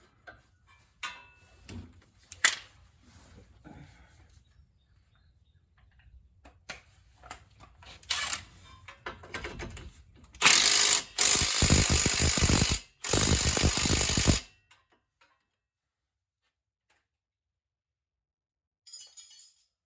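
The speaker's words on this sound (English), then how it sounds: "Let's go ahead and get this ratcheting one on here." Milwaukee ratcheting wrench being fitted and worked: scattered light metallic clicks and ticks, then a loud dense burst of rapid ratchet clicking in several runs, close up, no talk.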